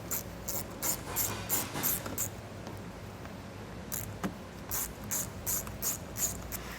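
Ratchet wrench with a T25 bit backing bolts out of the wheel well trim on a 2023 Audi Q3, rapid bursts of clicking ratchet strokes in two runs separated by a brief pause, close and clear.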